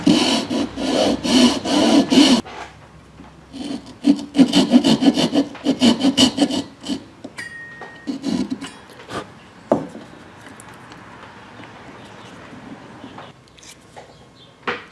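A hand tool carves a wooden snapping-turtle fishing lure with rapid, rhythmic rasping strokes in bursts, then slower scattered scrapes and light knocks, close and alone.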